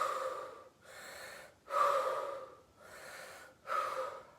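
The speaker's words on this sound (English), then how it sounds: "take some deep breaths." Deep, heavy breathing during a workout: a steady cycle of audible inhales and exhales, close and clear, with no talking over it.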